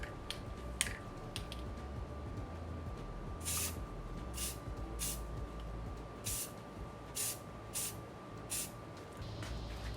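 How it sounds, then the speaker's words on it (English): Short hissing bursts of an aerosol spray can, about ten quick sprays in an irregular rhythm, close by with a steady hum underneath. "time to just give it a little spray"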